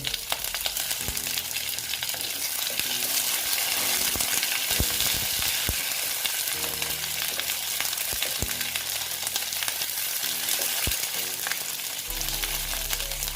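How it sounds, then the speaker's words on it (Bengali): Pieces of pointed gourd (potol) frying steadily in hot oil, a dense continuous sizzle with occasional clicks of a spatula stirring in the pan, close and fairly loud throughout. "ফুলগুলো আমার ভালো মতন ভেজে নিতে হবে"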